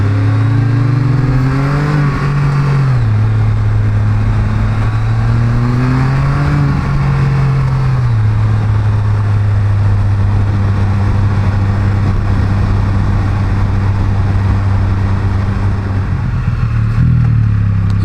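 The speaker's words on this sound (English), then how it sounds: "I like how it downshifts on its own." A Can-Am Spyder F3 S three-wheeled motorcycle engine drones loudly and close, its pitch dipping and stepping as it downshifts on its own while riding, with no talk.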